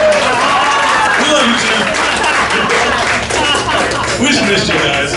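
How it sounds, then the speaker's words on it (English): A crowd claps and applauds warmly for returning guests, loud and sustained throughout, while a few voices call out over the clapping. "Wait, don't clap for Jim. He hates that. Clap for Belita."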